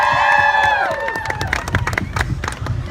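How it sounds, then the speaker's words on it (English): A crowd claps and cheers at a fan convention panel, rising after a sustained tone and turning into dense, lively applause with scattered voices for the rest of the moment. "So please, a round of applause."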